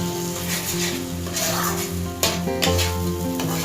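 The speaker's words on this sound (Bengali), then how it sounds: "কাজু বাদাম বাটাটা দিয়ে আর 1-2 মিনিট মতো কষবো।" Cashew paste fried and stirred in a pan, a steady close sizzle with soft scraping and a couple of sharper utensil knocks, alone with a low background hum.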